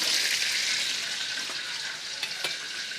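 Hot oil sizzles steadily in a pan, a bright, close, continuous hiss with a few faint clicks and spatters, no voices.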